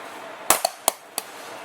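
An ICS airsoft grenade goes off by accident in hand, giving a sharp pop followed by a few quick snapping cracks spaced over about a second, fairly faint and with no voices.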